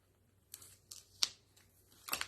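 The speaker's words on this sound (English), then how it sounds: "I'm going to grab my scissors and we're going to get into the heart of this" Scissors cut into a wrapped paper craft kit package, giving a few faint, sharp snips and crinkly clicks spaced irregularly in a quiet room.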